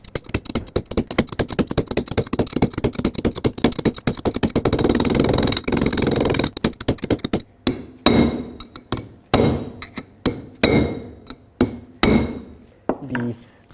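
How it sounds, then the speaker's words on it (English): Steel hammer strikes a punch, driving a wheel bearing race into the rear hub of a 2008-2010 Ford F-250: rapid dense tapping at first, then slower, separated ringing blows, loud and close with no talk. "all we have to do now is tap it down and take that same punch"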